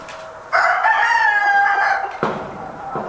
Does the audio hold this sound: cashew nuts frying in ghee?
no